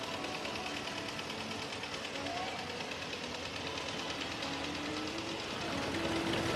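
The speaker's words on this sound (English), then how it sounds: "What a fun and rare opportunity for us to get a look and see some beautiful restored tractors." Restored tractors driven by their owners in the 2023 Appleton Flag Day parade run with a steady, rapid mechanical chugging, continuous and moderately loud outdoors, swelling slightly toward the end.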